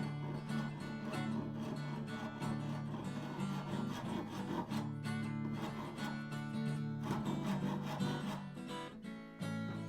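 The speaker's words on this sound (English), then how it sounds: "I'll just shave off a little of the tops of the dowling" Steady back-and-forth rasping of a file shaving the tops of wooden dowels set into a Fender guitar neck, close, continuous and even in rhythm, with no talking.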